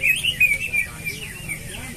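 A green leafbird (cucak ijo) sings a run of bright, high, quick chirping phrases over a steady low background hum, strongest in the first second and then softer.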